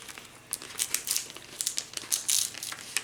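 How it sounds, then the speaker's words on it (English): Transfer tape peeled away from a vinyl decal on a craft project, a run of close crinkling, crackling rips in several bursts over a few seconds. "then we're going to pull our transfer tape off"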